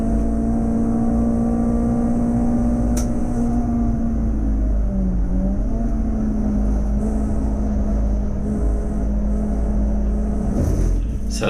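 A touring race car in the CSCC Tin Tops series laps the Snetterton 300 circuit, its loud engine droning continuously up close, with the pitch dipping briefly mid-run and then climbing again.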